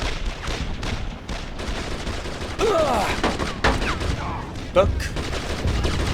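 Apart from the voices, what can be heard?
gunfire in video game Brothers in Arms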